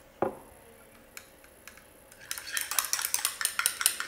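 Homemade face cleansing gel mixture with a few drops of grapefruit being stirred, a near utensil clinking and scraping against a bowl in quick, irregular taps that grow busier and louder after a quiet start.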